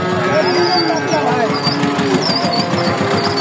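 A young Indian-breed calf of about three months moos at a busy Bogura livestock market, its calls rising over steady crowd chatter and people talking nearby, with faint engine noise in the background.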